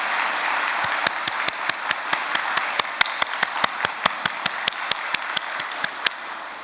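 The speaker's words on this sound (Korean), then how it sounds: "여러분, 다시 한번 참 어머니께 큰 박수 한번 올려주시면 고맙겠습니다." A crowd at a Korean gathering applauds warmly, a dense continuous wash of clapping with one pair of hands standing out in a steady rhythmic beat throughout, fairly loud and sustained.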